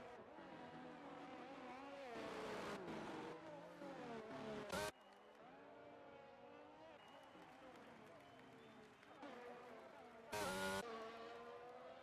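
An F1 car's engine on a qualifying lap around Singapore in a sim racing game, revving and changing pitch through gear shifts and cornering, heard under a commentator's voice, with two short loud bursts.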